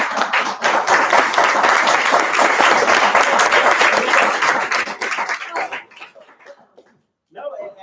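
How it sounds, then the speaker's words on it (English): A room of attendees at a board meeting applauds loudly and steadily for several seconds, then the clapping thins and fades into near silence before a voice begins speaking. "But I just wanna say thank you and a round of applause."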